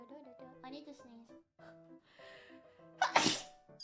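A person sneezes loudly and close by near the end of the clip, after a stretch of ordinary talking.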